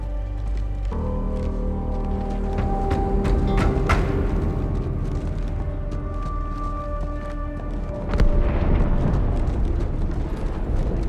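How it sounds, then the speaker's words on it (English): A huge explosion tears through a ship in the Halo 2 Anniversary video game: a dense, continuous roar of rumbling and metallic crashing with a fresh loud burst about eight seconds in. "That explosion came from inside the Athens, same as the Malta."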